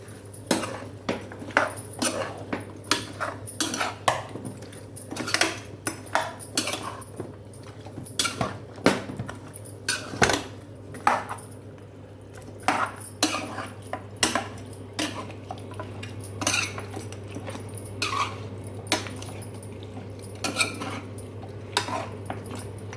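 Spiced mutton marinade with green chillies being mixed by hand in a metal dish, giving repeated clinks and scrapes of utensils against the dish at a steady, close rhythm over a low hum.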